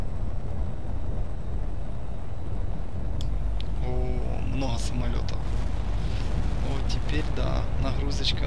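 Deep rumbling booms and blasts of explosions and aircraft in the video game H.A.W.X. 2 fill the scene continuously, with a voice talking over the heavy, loud explosive roar.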